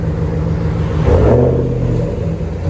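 A RAM pickup truck engine revving, heard from inside the cab: a loud low rumbling idle rises into a throaty rev around the middle, then settles back to a steady drone.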